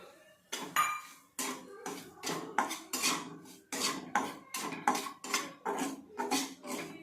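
A metal spoon stirs semolina being dry-roasted in a pan with half a spoon of oil for upma, producing a rapid series of close, rhythmic clinks and scrapes against the metal.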